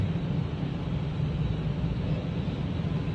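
An air dryer at a triple foam car wash blowing hard, giving a steady, loud, broadband roar close by with no pauses or talk.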